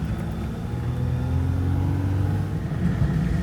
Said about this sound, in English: There's a car up here,